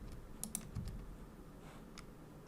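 Computer keyboard keys pressed during software drawing work, a few quick soft clicks near the mic with one slightly heavier tap, against faint room noise.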